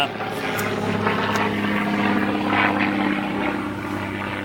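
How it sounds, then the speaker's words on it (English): A steady low engine drone of an aircraft passing overhead, with a voice speaking over it. "Hello, airplane."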